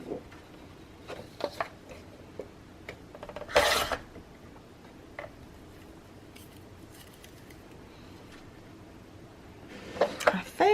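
Paper being trimmed for craft pockets, soft scattered snips and rasping rubs with a louder cutting burst midway and another near the end, close and quiet amid light handling noise.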